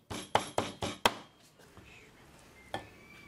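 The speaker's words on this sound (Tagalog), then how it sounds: "Tatadtarin lang natin to." A knife chops peeled shrimp by hand on a board: four quick, evenly spaced thuds, then a pause and one more chop, close and crisp with no talk.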